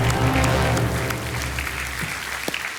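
Sustained studio audience applause welcoming a contestant on a television quiz show, dense, steady clapping that fades slightly toward the end.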